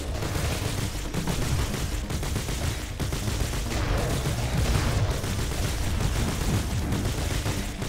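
Dense, continuous gunfire from the roguelike shooter Doomsday Hunters, a loud unbroken barrage of rapid shots and booms that fills the whole stretch with no talk over it.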